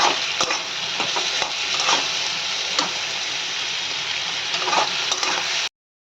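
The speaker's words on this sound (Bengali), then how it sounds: "এই সব কিছু দিয়ে ভালো করে আমি কষাবো।" Spices with chili powder, cumin powder and salt are stir-fried in a pan, producing a continuous sizzle punctuated by scraping and clinking stirring strokes, close and steady until an abrupt cut to silence.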